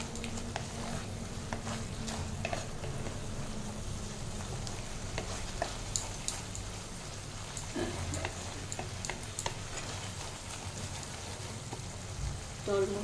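Food frying in oil in a pan, a steady close sizzle with scattered ticks and clinks of stirring throughout.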